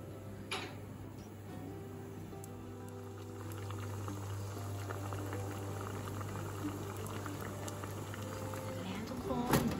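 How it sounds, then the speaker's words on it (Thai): Broccoli boils in a covered pot on a stove, a low steady bubbling hum with faint ticks and light clatter, close and quiet, rising slightly toward the end with a sharp knock at the close. "ต้มบรอกโคลีกินแบบว่าให้เขาเปื่อยหน่อยนะคะ"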